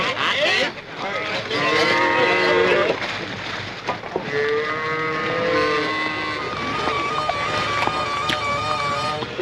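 Cow lowing in long, drawn-out moos close by, with people talking and calling over the animal amid farmyard bustle.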